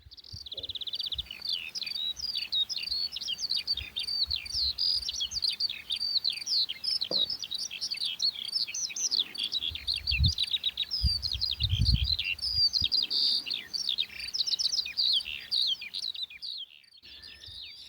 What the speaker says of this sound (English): I love listening to the song of skylarks